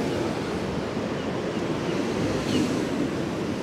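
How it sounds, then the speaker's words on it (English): Ocean waves crash and churn at high tide on a breezy Blackpool seafront, a continuous loud roar of surf with strong gusty wind buffeting the microphone. "We've got an 8-metre tide and gusts to 40 miles an hour at the moment"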